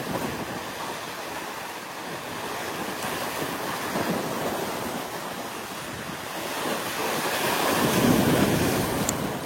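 Sea waves rolling onto a beach at a coastal shore fishing spot, a steady broadband wash of surf with wind noise on the microphone, swelling louder near the end; no voices.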